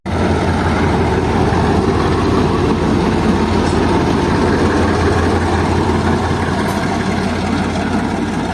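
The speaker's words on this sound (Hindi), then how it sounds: "तो ये आ गया इंजन दोबारा ब्रेक वैन को लेने के लिए।" Pakistani diesel locomotive GMCU 15 4903 moving toward a turntable at Attock City station, a loud, steady low engine rumble and throb that holds unbroken throughout, close by with no talk.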